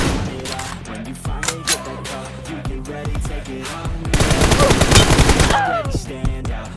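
Loud automatic M416 rifle fire in a team deathmatch shooter game comes in repeated bursts, the densest sustained stream near the middle, layered with game effects and no talk.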